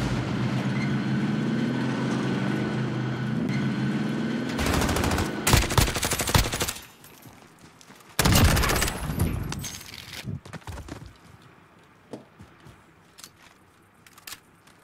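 Heavy automatic gunfire in the battle royale shooter Warzone, loud rapid bursts breaking through a steady rumbling background, then a second sustained volley followed by scattered fainter shots as things quiet down.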